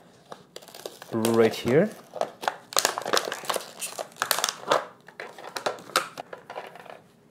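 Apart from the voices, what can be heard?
tearing open plastic packaging of Feather razor blade box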